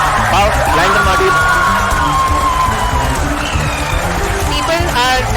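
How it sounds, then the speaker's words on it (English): Crowd noise from people at the ISRO Chandrayaan 3 lunar landing, loud and continuous throughout, with cheering, whoops and a general hubbub of voices and applause filling the room. "People are applauding."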